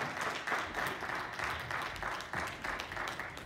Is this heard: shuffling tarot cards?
no